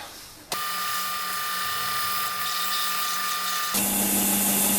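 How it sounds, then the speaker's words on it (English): A sanding machine runs steadily with a loud, even grinding whir as a piece of wood is pressed against it to shape a stalk, its tone shifting slightly near the end. "I'm going to shape it by running it over the sanding machine"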